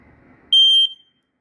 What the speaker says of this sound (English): Smoke detector test